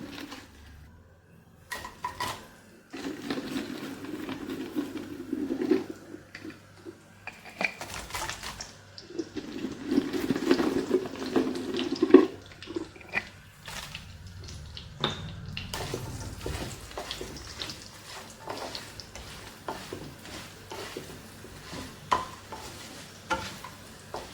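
Medium sardines frying in oil in a home kitchen, bursts of crackling sizzle mixed with scraping stirs and pan clatter, moderately near, without talk.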